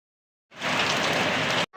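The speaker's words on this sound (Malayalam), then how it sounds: "നമ്മളിവിടുത്തെ മഴ പെരും മഴയാണ്" Heavy monsoon rain pours down outdoors, a dense roaring hiss that starts abruptly, holds loud and steady, then cuts off briefly before resuming.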